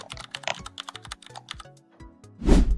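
Quick typing on a computer keyboard gives a rapid run of close, crisp key clicks, then a louder, heavier thump near the end, heard alone over a faint low tone.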